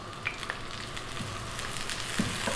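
Chopped onion hitting a tablespoon of hot corn oil in a pan, giving a steady close sizzle with a few sharper crackles and pops scattered through it. Nobody speaks over it.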